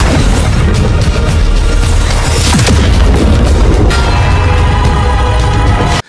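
A heavy, booming animated explosion bursts in the sky, rumbling through dense roaring noise, loud and sustained for several seconds before cutting off suddenly.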